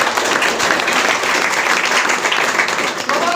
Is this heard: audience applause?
yes